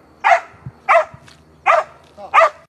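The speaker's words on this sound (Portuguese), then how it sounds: "Um cão farejador vasculha o local onde militares acreditam ter o corpo de uma pessoa desaparecida." A sniffer dog at a flood-struck disaster site in Brumadinho, Brazil, gives four evenly spaced, fairly close barks or yelps, each one short and clear against a quiet background.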